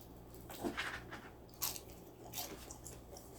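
Close, crisp bites and crunchy chewing on seasoned fried chicken, repeating in uneven bursts against a quiet background with no talking.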